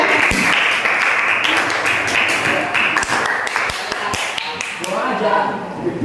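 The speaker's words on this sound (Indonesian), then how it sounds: "tepuk tangan" Applause from an Indonesian school class after group 2 finishes a presentation on digestive-system disease, with steady close clapping and scattered sharp taps for several seconds and some talk mixed in.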